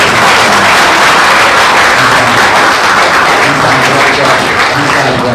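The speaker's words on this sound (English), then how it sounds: "A round of applause for him." A panel discussion audience claps for the moderator at an interfaith dialogue event, a loud, dense, sustained wash of applause filling the whole stretch with no talking over it.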